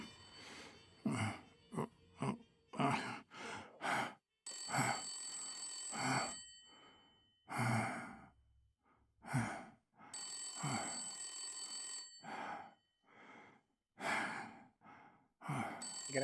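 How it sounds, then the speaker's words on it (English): A telephone ringing in the Blacksad video game, repeated bursts of bell-like ringing alternating with sighs and breathy vocal sounds in a quiet room. "phone's ringing"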